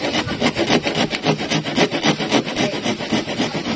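A hand saw cuts through wood while an old boat is being renovated. The strokes are close, steady and rhythmic, rasping back and forth with no talking.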